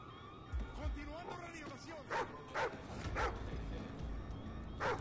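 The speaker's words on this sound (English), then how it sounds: "They got a dog too, look at that." Dog barking in Call of Duty: Ghosts, several short sharp barks spaced apart at moderate distance, mixed with game sounds and people talking.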